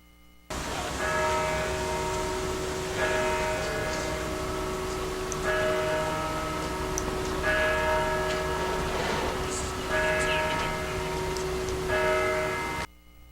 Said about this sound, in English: Memphis was not the only city that tolled bells in honor of MLK